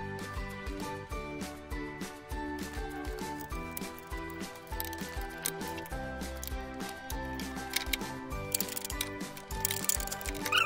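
A hand ratchet clicks in short repeated bursts while 10 mm bolts are backed out of a water pump on a 2006 Chrysler Town & Country. The tool is close by, over faint workshop background noise.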